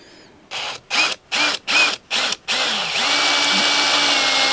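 A power drill with a reverse drill bit, boring into a broken muffler screw on a Homelite chainsaw, pulses in five quick bursts, then settles into a continuous whine that keeps going, loud and close.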